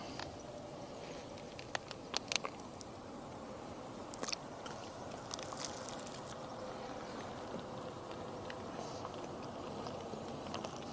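Someone eating a donut with a fake pastel de nata stuck on it, close-up steady chewing and soft crunchy bites over a constant background hiss, no talk.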